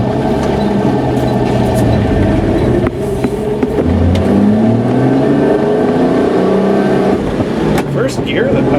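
An old classic car that sat unused runs and hesitates off idle, its engine droning and rising in pitch as it revs, loud and steady from inside, with someone talking over it.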